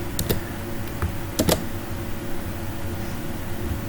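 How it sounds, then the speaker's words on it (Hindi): Computer keyboard keys tapped while working in Excel, a few brief quiet clicks spread unevenly over a steady background hum. "यहाँ पे मैं लिखती हूँ"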